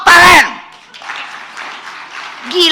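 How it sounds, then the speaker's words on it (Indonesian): An audience at a book launch in Indonesia gives a soft, distant round of applause, framed by a loud voice speaking just before and again at the end. "Tepuk tangan."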